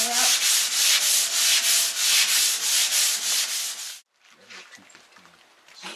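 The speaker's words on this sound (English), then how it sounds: "Keep sanding." A boat bulkhead is sanded by hand during a refit, with rapid rhythmic rasping strokes close up for about four seconds. Quieter scraping follows.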